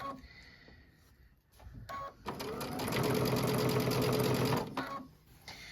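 A sewing machine runs steadily for about two seconds, stitching a zipper onto a quilted bench pillow, with quieter handling sounds before and after.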